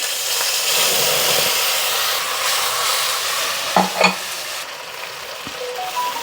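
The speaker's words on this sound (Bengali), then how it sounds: "এবার পেঁয়াজ বাটাটা দিয়ে দিলাম" Onion paste frying in hot oil in a pan for a royal-style katla fish curry: a steady, dense sizzle runs throughout, with a couple of brief stirring scrapes just before the middle and no talking.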